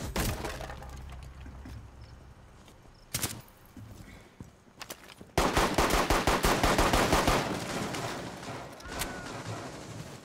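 Gunfire in the tactical shooter Rainbow Six: a few sharp isolated shots early on, then a dense stretch of rapid automatic fire in the second half, loud and close, with faint talk in the background.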